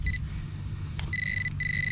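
A metal detector sounding on a buried aluminium pull tab gives two sustained electronic tones, each about half a second long, separated by a short gap and a brief click, heard up close over a low background hum.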